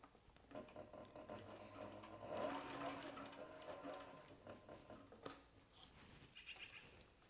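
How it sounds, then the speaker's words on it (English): A Cobra 26 sewing machine stitches through layered leather for a tote, giving a steady mechanical whir and clatter at moderate, close level with no talking. "I've been really happy with this Cobra 26 sewing machine."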